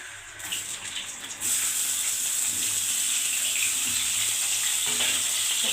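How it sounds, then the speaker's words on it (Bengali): Pointed gourd (potol) pieces frying in mustard oil, a quieter hiss that jumps to a loud, dense, continuous sizzle partway through and holds steady up close, with no talk. "এবার পটলটা আমি তেলে ভেজে নেব। পরিমাণ মতন সরষের তেল দিয়ে।"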